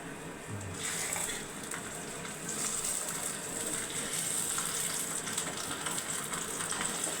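Poultry paratha frying in hot oil in a heated wok, a continuous crackling sizzle with bright hiss, close and steady for several seconds.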